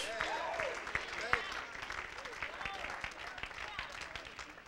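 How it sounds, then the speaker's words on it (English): A congregation at an Apostolic church service claps hands in a sustained round of applause, fairly distant and softened, while a preacher's voice carries over it. "Let's give the Lord a hand clap for an investment into this."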